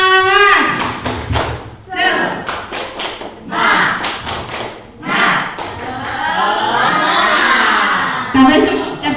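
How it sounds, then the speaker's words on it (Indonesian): An audience performs the 'tepuk semangat' rhythmic clapping chant in a hall, with sharp, grouped bursts of claps in a patterned rhythm, separated by short pauses, mixed with some voices and a laugh. "Coba kita tepuk semangat dulu ya"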